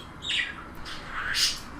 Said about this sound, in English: Simon often fills in words and phrases for Lucky in this recording